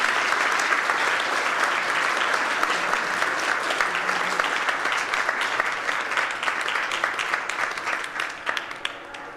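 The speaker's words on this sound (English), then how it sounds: "Please, can you guys give this man a round of applause?" A steady, dense round of applause from an audience fills the hall at a SPARK Speaker Series talk on Canadian sport, sustained for several seconds before thinning slightly at the end.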